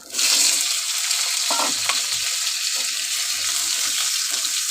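Potatoes dropped into hot oil with cumin seeds in a pan, a sudden loud burst of sizzling that settles into a steady, close crackle with light stirring.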